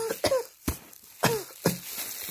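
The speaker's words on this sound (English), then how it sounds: "Now, cough for me." Four distinct coughs spaced about half a second apart, close and sharp, with a throaty rasp and brief quiet between them.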